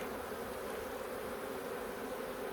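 Honey bees drone steadily at an open hive during a summer inspection in a Holts Summit bee yard, a dense, continuous close-up buzz with no voices.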